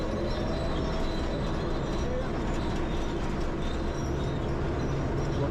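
Heavy, constant diesel rumble from a Caterpillar D8 pushing a scraper through earth for a new reservoir, loud and close with a grinding, rattling drone throughout.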